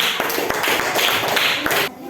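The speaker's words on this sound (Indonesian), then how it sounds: "tepuk tangan dulu untuk kelompok 1" Classroom clapping from students for a presenting group in a school lesson, a short burst of uneven hand claps at close range with distinct individual slaps, ending abruptly.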